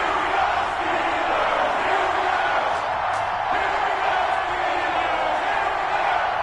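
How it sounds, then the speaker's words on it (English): Stadium crowd roars steadily in an EA Sports NFL video game as the Baltimore Ravens and Pittsburgh Steelers line up, a dense continuous wash of cheering with a few louder whoops rising out of it. "This crowd is ready as their guys get set to match up between the Baltimore Ravens and the Pittsburgh Steelers"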